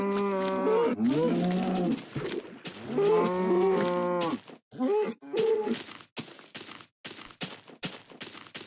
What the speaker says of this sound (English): oh, that's a lot of cows.